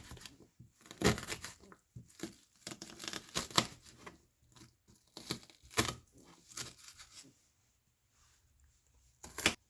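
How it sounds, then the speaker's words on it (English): Knife dicing a whole medium-sized onion on a cutting board: irregular crisp chopping and crunching strikes in quick bursts, close and fairly quiet, with a pause before a final loud cut. "We're gonna dice the whole onion."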